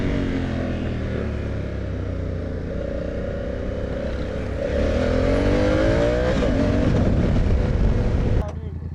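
A motorcycle ridden in second gear, the engine droning steadily and then rising as it revs harder, with wind rush and a brief voice over the ride.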